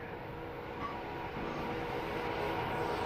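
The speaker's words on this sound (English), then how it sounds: "Train arriving." A Hamburg U-Bahn train, a DT4 unit on the U1 or U3 line, pulls into a station with a steady, fairly loud rumble and rail noise that swells slightly as it nears, with no talking.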